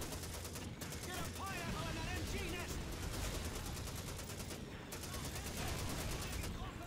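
Call of Duty 2 battle with rapid machine gun and rifle fire from an MG nest, dense bursts crackling continuously at moderate distance, briefly dropping out twice amid the chaotic din.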